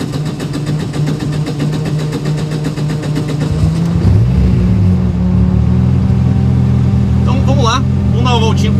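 A 1989 VW Gol Furgão with a 2.0 turbo engine idles, then revs and pulls away with rising drone, a voice speaking faintly partway through over the engine noise.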